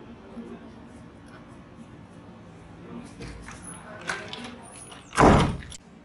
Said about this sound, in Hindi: जा के दरवाजा बंद कर।